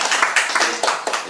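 Brief burst of clapping from a small audience at a discussion gathering, a few distinct hand claps over roughly one second with a faint murmur underneath.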